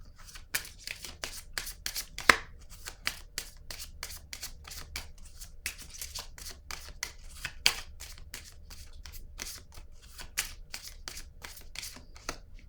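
Playing cards riffled and flicked in a quiet room, a long run of quick papery snaps and rustles, close and fairly soft, with a couple of sharper slaps standing out.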